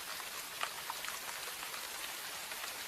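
Steady rain falls in a constant hiss over the Everglades, with a few individual drops pattering faintly on top; no voices.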